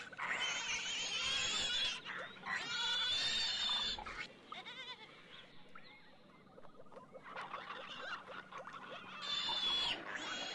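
Pig grunts and squeals come in loud bursts, with short quieter pauses in between, heard up close and with no talking.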